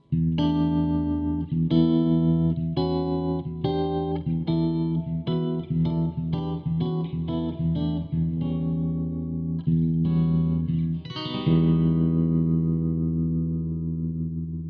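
Electric guitar chords played through a pulsing tremolo-style effects pedal, choppy chords at first, then a sustained heavily processed tone, loud and close.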